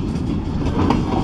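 A freight train of the Escanaba and Lake Superior Railroad rolls past close by in East Kingsford, Michigan, a loud steady rumble with rhythmic wheel clatter.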